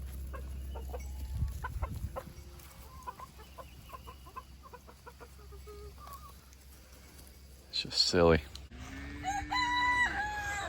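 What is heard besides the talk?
chickens clucking and rooster crowing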